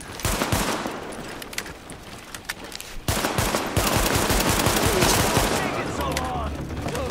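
Gunfire from the video game The Division rattles in dense automatic bursts and rapid volleys on a Brooklyn street, loud and close. A voice is faintly present beneath the shots.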